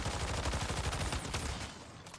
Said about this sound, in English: I'm going to shoot at this dummy